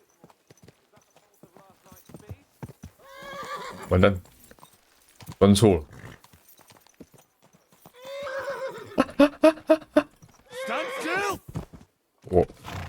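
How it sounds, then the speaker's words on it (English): Horse hooves clip-clop in Kingdom Come: Deliverance II alongside whinnies, with someone talking loudly over them in bursts. "Is this your first time riding a horse?"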